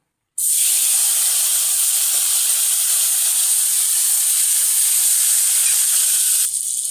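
Chopped tomato and onion hit hot oil in a pan for a potol chingri curry, setting off a loud, steady hiss and sizzle that starts abruptly and holds at full strength throughout, with no talking.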